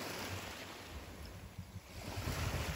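Ocean waves washing onto a beach at low tide in the evening, a continuous close rushing roar with wind buffeting the microphone.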